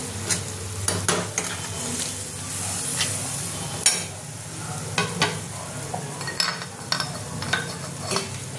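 Spiced prawn masala with chilli, cumin, coriander and garam masala powders and whole green chillies sautéed in a pan, a continuous close sizzle broken by repeated spatula scrapes and taps.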